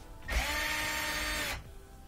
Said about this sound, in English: We're going to take out these two Phillips head screws.